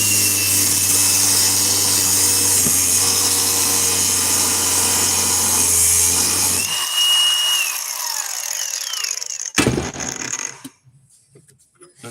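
A handheld power tool fitted with a cutoff wheel grinds through material in a shop, a loud steady whining screech with a high tone that winds down after about seven seconds, followed by a brief sharp clatter near ten seconds.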